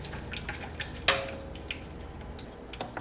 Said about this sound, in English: So I have a colander that I have over a bowl, just so that the juice doesn't go down the sink.